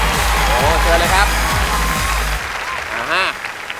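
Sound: audience applause

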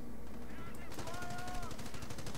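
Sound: machine gun fire in video game Company of Heroes

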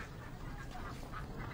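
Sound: ducks quacking

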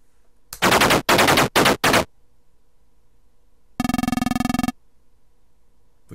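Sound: tank coaxial machine gun firing in video game Armoured Commander

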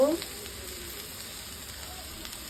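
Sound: leaves added to frying chicken, sizzling

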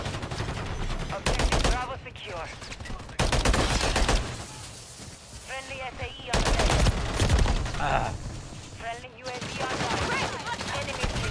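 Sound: gunfire in the video game Call of Duty MW3

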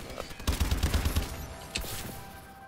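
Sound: shotgun fire in video game Call of Duty Advanced Warfare

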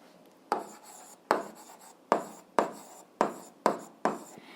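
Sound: writing on paper

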